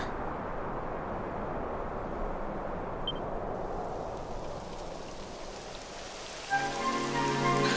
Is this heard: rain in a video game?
yes